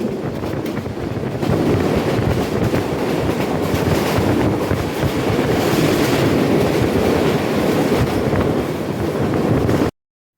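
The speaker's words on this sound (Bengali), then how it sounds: "এই মুহূর্তে আমাদের সাথে দেখা হবে চট্টগ্রাম থেকে ছেড়ে আসা জামালপুর অভিমুখী সাতশো পঁচাশি বিজয় এক্সপ্রেসের সাথে" The Bijoy Express passenger train, running from Chittagong toward Jamalpur in Bangladesh, rolls along the rails in a loud, continuous close rumble with heavy wind rush, cutting off abruptly at the end.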